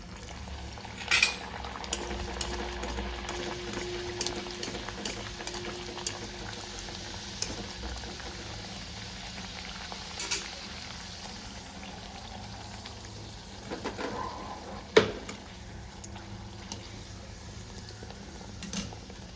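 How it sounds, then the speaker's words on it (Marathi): Pumpkin gharge puri frying in hot oil, a faint steady bubbling hiss that runs continuously, broken by a few soft clinks and scrapes of a utensil. "तर आपलं तेल तापलेलं आहे आपण टाकूया पुरी"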